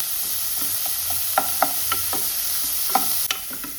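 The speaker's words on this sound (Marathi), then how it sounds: "कांदो बरो भाजून बरो सॉफ्ट जावंक जाय." Chopped onions frying in a pan for masala stuffed brinjal, a steady soft sizzle with intermittent scraping clicks of a stirring spoon, close and without talk.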